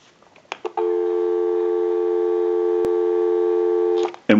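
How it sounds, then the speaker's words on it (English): A few handset clicks, then a steady, unbroken dial tone from an Automatic Electric Monophone rotary dial desk telephone hums loudly for several seconds before another click ends it. "Go ahead and give you some dial tone."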